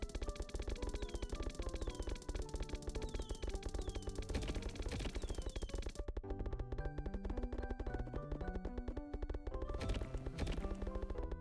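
Rapid, continuous automatic shooting in the video game Gnorp Apalogue, a dense stream of rattling shots layered over the game's melodic music, loud and steady throughout with no voice.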